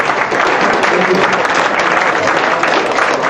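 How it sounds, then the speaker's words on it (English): A room of meeting attendees at a citizens' presentation on the Ludlam Trail gives a loud, steady round of applause, dense clapping throughout with no pauses. "please guys, give yourself a big round of applause for all this content"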